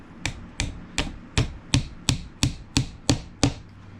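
A hammer peens brass pins through a coffin-style Bowie knife handle: ten sharp, evenly spaced metallic strikes, close and clear, each ringing out briefly before the next.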